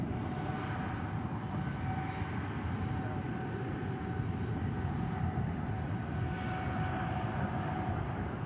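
Heavy Boeing 777 departing DFW airport, a steady, broad jet engine roar holding loud and constant throughout, with a faint tonal whine over the rumble and no talking.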